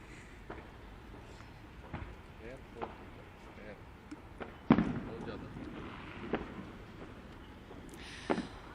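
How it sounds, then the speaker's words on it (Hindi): Firecrackers burst near Mahim beach in a string of sharp, scattered pops. Some are close and some are far, all heard over a noisy outdoor background with voices. "पीछे आप नज़ारा देख सकते हैं माहिम बीच के पास किस तरह से यहाँ पर पटाखे फूटने शुरू हो चुके हैं"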